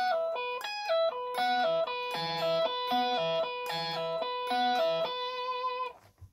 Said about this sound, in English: Take the distortion off, see it's a bit clearer.